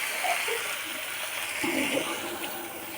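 Water pours into a pot of jackfruit seed and potato curry, a short, close, gushing splash that runs steadily for a few seconds.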